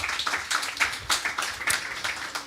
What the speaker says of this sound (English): he deserves a resounding applause